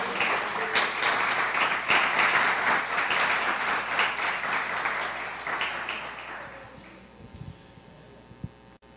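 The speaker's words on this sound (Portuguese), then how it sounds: "Será que você pode dar uma salva de palmas ao Senhor?" A church congregation claps loudly together for several seconds, the applause thinning and fading out into scattered claps and quiet room sound near the end.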